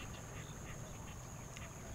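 Several mallard ducks quack in short bursts over a steady outdoor hum, fairly faint and somewhat distant.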